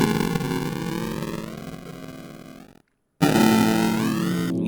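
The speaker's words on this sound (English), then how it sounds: "lo-fi is going to give us kind of like that staticky sound." Sample run through the FL Studio lo-fi effect, a dense, hissy, distorted musical tone with static texture, briefly cutting to silence before resuming loud and steady.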